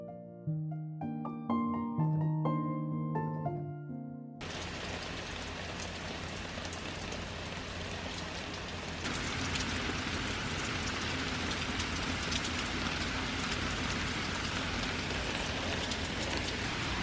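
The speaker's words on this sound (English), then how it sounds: "It is so rainy and cold and dreary out" Steady rain falls on a cold, dreary day in Portland, Maine, following a short piano passage; the downpour is a dense, even hiss that grows slightly heavier partway through.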